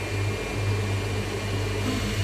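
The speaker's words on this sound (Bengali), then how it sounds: "মিক্সিতে দিয়ে দিয়েছি" A kitchen mixer grinder grinds fried spices and dried red chillies, giving a steady, loud motor whir with a constant low hum that runs unbroken throughout.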